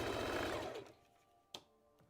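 A sewing machine stitches an elastic band onto a Valentine's Day dress, running in a steady loud whir for under a second before stopping, followed by a couple of sharp clicks.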